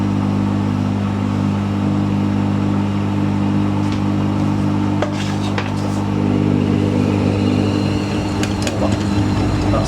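A Hoover AAA Whisper 1600 washing machine spins up with a steady motor hum and rising whine, a few clanks and knocks from the drum breaking in toward the end.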